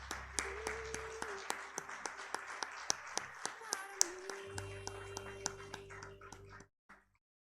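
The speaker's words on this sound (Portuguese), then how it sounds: "Vamos aplaudir ao Senhor." A church congregation claps in a steady, even rhythm, roughly three claps a second, with sharp, moderately near hand strikes over a low hum before the clapping stops abruptly.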